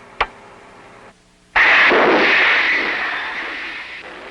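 Submarine torpedo tube firing a torpedo during a Cold War anti-submarine exercise: a sharp pop, then after a brief pause a loud, sustained rushing whoosh that slowly fades.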